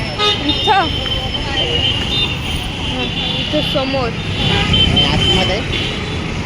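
Night road traffic near a bus stand by Thakkar Bazaar, with luxury buses for Gujarat rumbling past and repeated car and bus horns tooting close by while someone talks over the noise.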